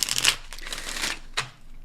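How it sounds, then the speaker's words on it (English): A deck of tarot cards is shuffled at close range: a quick riffle of crisp card flutters, then a short pause and one more brief burst, loud and dry, with no talking. "I don't know why I'm still shuffling."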